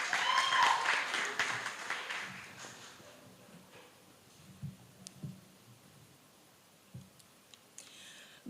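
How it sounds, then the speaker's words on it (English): A debate audience claps at a university guild debate, a loud burst of applause that fades quickly within a few seconds, leaving faint scattered clicks and room noise. "So give her a round of applause as we begin."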